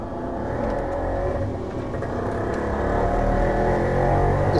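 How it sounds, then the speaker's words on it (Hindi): Steady traffic roar from a busy main road close to a home, a continuous low rumble of passing cars with slight swells in level and no talking. "मेरा घर बहुत ही मेन रोड के पास है, तो शोर के लिए माजरत"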